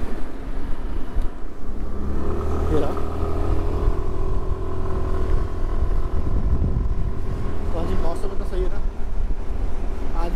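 A scooter rides along a road toward the Morni Hills, its engine droning steadily under heavy wind buffeting the microphone, with a voice speaking briefly.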